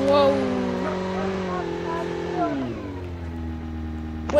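A motorcycle engine in a video game hums with layered, steady harmonic tones that bend and slide down in pitch as the revs drop, fairly loud and close, ending with a brief sharp burst.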